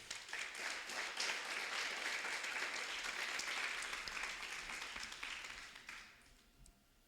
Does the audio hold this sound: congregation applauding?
yes